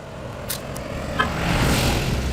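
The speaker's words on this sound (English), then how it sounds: "School bus just went by." A school bus passes nearby, its low engine rumble swelling gradually as it goes by, with a couple of brief higher hisses early on.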